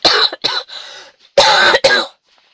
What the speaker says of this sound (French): Oui, oui, je tousse encore.